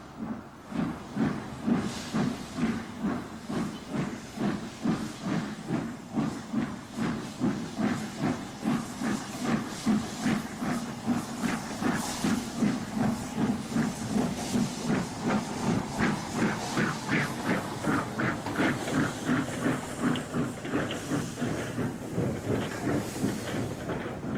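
The LNER steam locomotive Flying Scotsman chuffs rhythmically with hissing steam, its regular beat pulsing steadily and evenly throughout, no voices.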